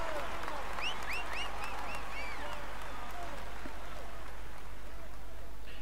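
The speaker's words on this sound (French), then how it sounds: "On applaudit encore." Crowd applause at a road cycling race podium ceremony, a steady wash of distant clapping and cheering, with faint whistles rising above it.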